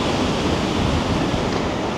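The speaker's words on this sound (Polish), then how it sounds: "Te fale, te fale są sakramenckie, olbrzymie. Morze jest tak zburzone." Huge storm waves crash and roar at Porto Katsiki beach on Lefkada, a dense, continuous wash of surf with wind noise and no voices.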